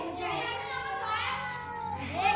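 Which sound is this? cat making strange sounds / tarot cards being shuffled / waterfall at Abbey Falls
cat making strange sounds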